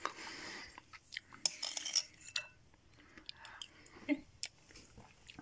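Someone snacks close up while a cake bakes in the oven, soft irregular chewing and biting sounds with a few light clinks of cutlery or dishes, quiet and intimate.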